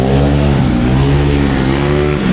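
Loud car engine revving through aftermarket mufflers on a Manila street, a deep rumbling drone that rises and falls in pitch, close and continuous with no talking.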